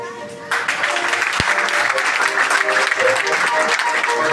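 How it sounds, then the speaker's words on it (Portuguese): Dense, sustained applause from a large audience standing at a theology graduation ceremony, loud and continuous throughout, with a voice briefly heard at the start. "vamos bater uma salva de palmas para o nosso"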